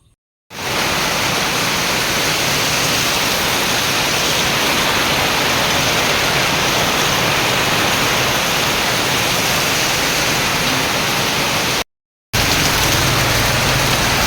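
Heavy rain pouring down in a rural setting, a loud, steady, dense roar that runs almost unbroken except for a brief cut near the end.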